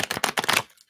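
Tarot cards being shuffled by hand in a quick run of papery riffling bursts lasting about half a second, then tapering off into near silence.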